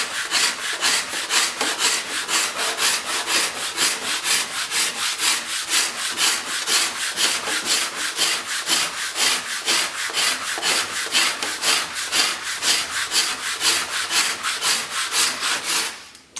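An old Sandvik cabinet scraper from about 1993 shaves an oak chair seat in long, rhythmic strokes, a bright rasping scrape repeating roughly three times a second, loud and close, with no voices.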